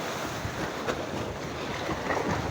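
Steady, rushing surf of ocean waves washing continuously, with a windy hiss over the top and no voices.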